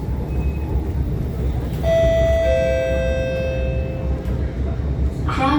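An SMRT R151 train's door chime sounds at Kranji station, a clear multi-note electronic tone ringing out over the steady rumble of the carriage, followed by a brief hiss near the end.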